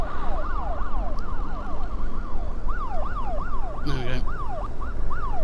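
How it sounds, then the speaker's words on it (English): Wailing vehicle siren in a racing video game, sweeping up and down steadily and continuously through the whole stretch over engine and game noise, with a brief burst of another sound near the end and a short spoken phrase. "That siren is so weak."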